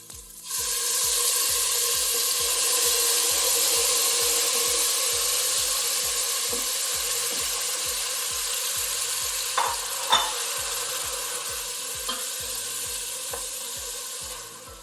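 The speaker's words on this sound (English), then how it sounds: "I'm just cooking down our onions, and then we're going to add our peppers and fry that down" Onions and peppers fry in palm oil in a pan while cooking down for Nigerian efo riro, a steady loud sizzle close up with occasional stirring clinks and scrapes, and no voices.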